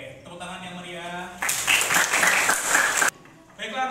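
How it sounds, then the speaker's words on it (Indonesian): Schoolchildren in a classroom clap together in a short, loud burst of about a second and a half, set between stretches of a teacher's voice before and after. "Oke, tepuk tangan yang meriah."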